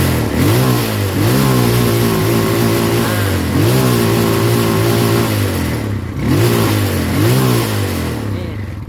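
A Yamaha Scorpio motorcycle with a charging-system fault runs close and loud, its engine revved repeatedly in rising surges that fall back toward idle between throttle blips, with faint talk.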